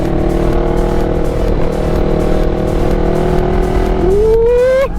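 A Yamaha MT-03 motorcycle's 300 twin-cylinder engine drones loud and close, then revs sharply upward near the end with a rising whine before easing off.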